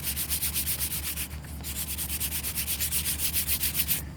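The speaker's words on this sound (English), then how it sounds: "if you don't have a sander home, just buy some square sandpaper" Sandpaper rubbed by hand across a car canopy surface in steady back-and-forth strokes, a rhythmic scratchy rasp close to the mic, with a brief pause partway through.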